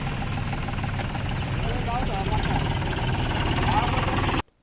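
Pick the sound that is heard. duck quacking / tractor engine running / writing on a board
tractor engine running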